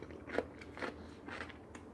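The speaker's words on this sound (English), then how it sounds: "My apologies for those of you hearing me chew on this stuff" Close, crisp crunching bites as someone chews salad vegetables such as cucumber, roughly three bursts in two seconds, moderately quiet with no talking.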